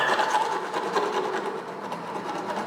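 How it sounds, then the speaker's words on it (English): A rock is rubbed hard against the metal eyelets of a Nike sneaker, giving a continuous gritty scraping close up and loud for the whole stretch, with no voices. "just scrape the rock on it"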